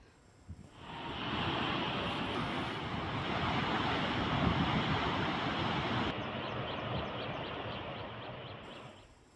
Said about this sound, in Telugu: 70 గేట్ల ద్వారా దిగువకు నీటిని విడుదల చేస్తున్నారు అధికారులు